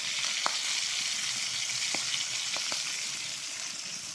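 Hot oil spits and splatters as milkfish fries in a pan, a steady loud sizzle broken by several sharp pops, with no voices.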